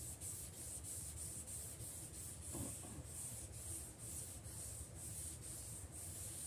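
A cloth rubbing WD-40 over crayon marks on a surface, a soft steady scrubbing that goes on without pause in two directions, close and quiet, with a faint high whine behind it.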